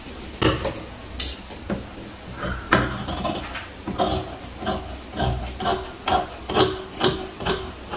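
Scissors cutting blouse fabric, a series of close rasping snips in an uneven rhythm, roughly a dozen strokes with faint handling noise between them.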